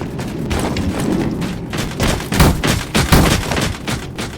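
Energy shield in the video game Kaskade taking hits: dense, loud impact bursts and crackling blasts layered over a constant roaring background, with sharper thuds around the middle and toward the end.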